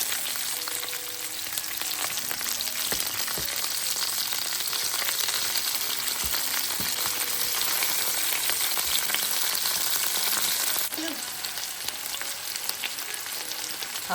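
Meat searing in a hot pan, left undisturbed, gives a dense, steady sizzle that runs loud and unbroken for most of the stretch, then eases slightly near the end. No one speaks.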